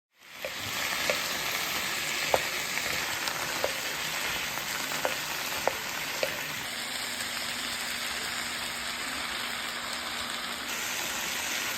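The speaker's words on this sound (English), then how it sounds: "A little stir fry for dinner, not bad." A pan of stir fry sizzles loudly and steadily, a constant close frying hiss broken by a few sharp clinks of stirring utensils, with no talking.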